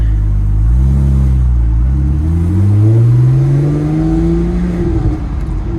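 A Porsche Boxster 987 roadster driven with the top down pulls away, its engine note loud and close, rising steadily in pitch as it accelerates, easing briefly, then climbing again.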